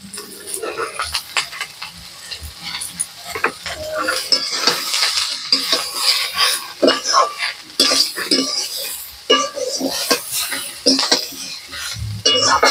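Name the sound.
sautéing cauliflower roast in a pan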